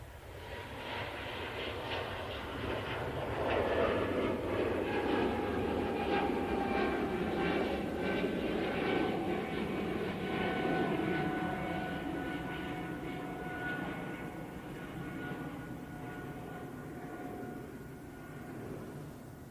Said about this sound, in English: Air France A220 going back to Paris Charles de Gaulle Airport now.